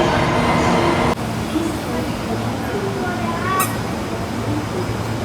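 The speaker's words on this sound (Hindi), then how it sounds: "मेट्रो ट्रेन ने हमको यहाँ तक छोड़ा" Ahmedabad metro train ride heard from inside the carriage: a steady rumble and hum of the train in motion, with a sharp shift partway through and people talking over it.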